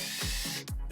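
Stainless steel screws being power-driven into an engine room panel on a boat, with several short whirring bursts from the drill or driver one after another, loud and close.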